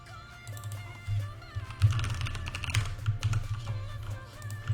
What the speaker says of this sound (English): I was typing in a hurry apparently.